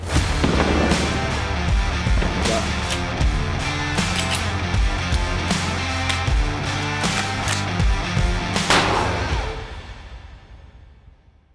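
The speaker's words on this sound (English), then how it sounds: "shooting this beer keg with everything from a 22 all the way up to a shotgun slug" Rapid, loud gunshots fired one after another at a full beer keg with firearms from a .22 up to a shotgun slug, the sharp cracks and their echoes packed close together before fading out.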